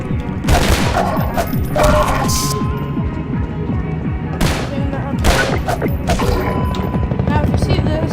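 Video game combat from a Half-Life 2 speedrun, with loud bursts of explosions, rapid gunfire and crashing impacts coming in irregular clusters, dense and close, with occasional sharp blasts standing out.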